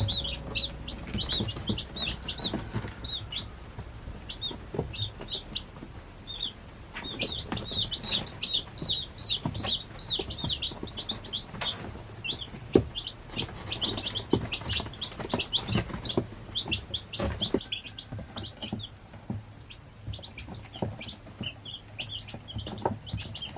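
Day-old McMurray hatchery chicks in a box, a dense chorus of high, rapid peeping and chirping that carries on throughout, close and fairly loud, with occasional soft bumps and no speech.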